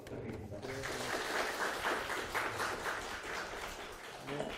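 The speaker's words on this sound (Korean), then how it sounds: "좋은 강연해주신 한정대 스피어께 다시 한번 큰 박수 부탁드리겠습니다." Audience applause for a guest lecturer at the end of a university talk on Korean youth and national policy, steady dense clapping filling the hall and holding level for several seconds.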